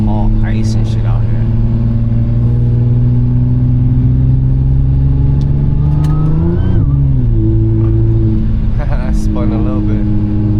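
A 500 hp Audi S4 driving on icy, snowy roads, its engine droning steadily with a pitch sweep as it revs and settles, while a person talks over it throughout.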